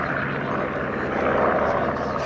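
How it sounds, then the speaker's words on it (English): A vintage aeroplane flying at the Sywell air show gives off a dense, steady engine drone that fills the whole stretch, loud and unbroken. "It's just a beautiful aeroplane."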